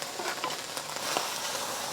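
Chunks of barbecue pork fry in hot oil in a pan, a steady close sizzle with a few scraping stirs over it and no talking.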